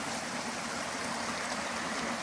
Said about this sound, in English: Nice bubbling brook.